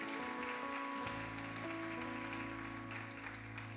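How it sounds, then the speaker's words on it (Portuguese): A church congregation claps continuously with a dense, steady patter, while sustained tones of music ring underneath. "Você pode aplaudir o Senhor?"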